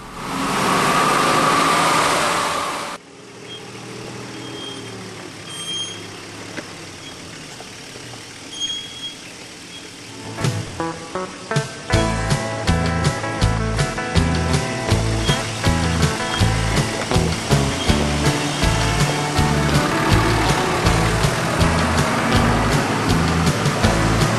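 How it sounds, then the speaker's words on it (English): 4WD vehicles roll down a rutted dirt track, engines rumbling close by with a steady throb, after a short loud burst and a quieter stretch. "But the vehicles are all coming down here."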